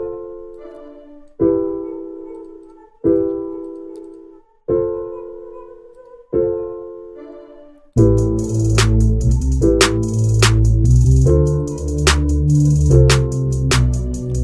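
A hip-hop beat remaking a song: sparse chord stabs ring out and decay at first, then a full beat kicks in with punchy drums, hi-hats and layered melody playing steadily.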